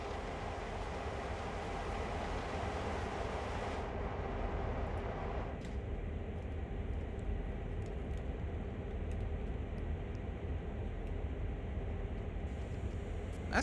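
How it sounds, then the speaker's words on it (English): Heavy-haul CSX freight train rolling steadily in the Train Sim World game, a continuous low rumble and rail noise that holds at an even level throughout with no talking. "Let's go. Poo train forwards."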